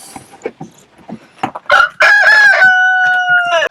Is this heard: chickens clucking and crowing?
yes